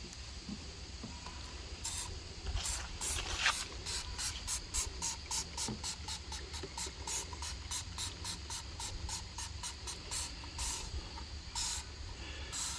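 Repeated bursts of wheel cleaner sprayed from a trigger bottle onto the wheels of a John Deere 430 garden tractor, a quick run of short hissing spritzes in steady rhythm, close and fairly quiet, with no talking.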